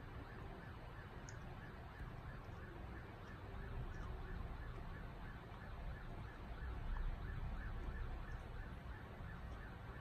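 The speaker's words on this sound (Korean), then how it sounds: "지금 앰뷸런스가 하나 들어오네요." A distant ambulance siren wails in a repeating rising-and-falling pattern at a street protest in Hong Kong, faint beneath steady background hum, growing slightly louder midway.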